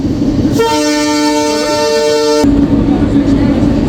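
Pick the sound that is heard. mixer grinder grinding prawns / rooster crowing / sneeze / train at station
train at station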